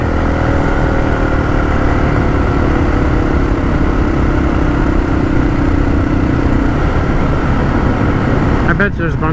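Honda XR650L motorcycle engine droning steadily while riding along a road, loud and continuous with wind rush, and a brief burst of noise near the end.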